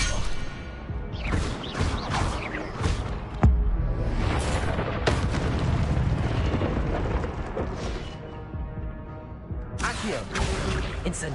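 Incendio fire spell blasts in Hogwarts Legacy, a run of loud booming bursts and crackling impacts layered with game effects and music, with a spoken voice heard among them.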